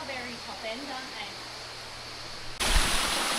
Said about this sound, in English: Only a little waterfall at the top